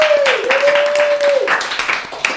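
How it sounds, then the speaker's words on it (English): An audience gives a round of applause at a comedy roast, with steady crowd clapping and cheering throughout and a voice speaking over it. "One more round of applause for Jake"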